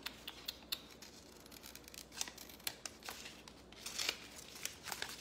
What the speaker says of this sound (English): So we'll just cut it up.